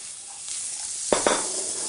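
Large onion chunks frying over fairly high heat and stirred in a pan, making a soft steady sizzle with two quick scraping clacks of the utensil midway, fairly quiet and without speech.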